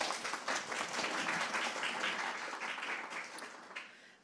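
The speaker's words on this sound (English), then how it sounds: "Please give her a round of applause." A room of attendees at a morning conference talk applauds a speaker, a soft, even wash of many hands clapping at a modest distance that holds steady and then thins out.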